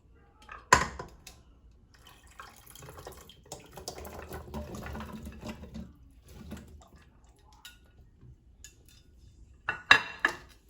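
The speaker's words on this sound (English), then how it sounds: "And then I'm going to go ahead and pour in my potatoes and carrots." Chunks of potatoes and carrots tumble into a pot with clattering knocks and a wet rustle, with scattered thuds and a final burst of clunks.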